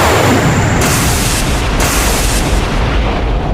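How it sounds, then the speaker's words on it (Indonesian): A horizontal blast of energy sweeping across a valley, a sustained loud roaring burst of wide hiss and rumble that swells and shifts in steps over a few seconds. "Ledakan energi horizontal menyapu lembah."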